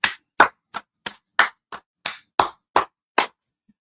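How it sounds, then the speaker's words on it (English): Ten sharp, evenly spaced claps ring out one by one in a steady rhythm, close and loud with silence between each, at a Hebrew Israelite street teaching gathering. "Clap it up"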